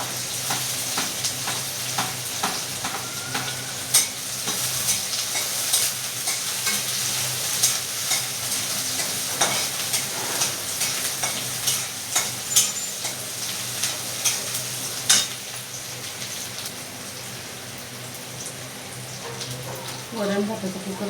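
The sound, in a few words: capsicum vegetable frying and stirring in pan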